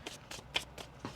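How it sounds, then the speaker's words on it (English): A deck of tarot cards is shuffled in quick bursts, about five crisp riffles at a steady rhythm, close and fairly quiet with no talking. "1 more shuffle here."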